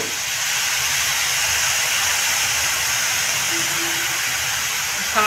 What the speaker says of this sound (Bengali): পরে আমলকিগুলো দিচ্ছি, গ্রেট করা আমলকিগুলো দিয়ে একটু ভেজে নিচ্ছি।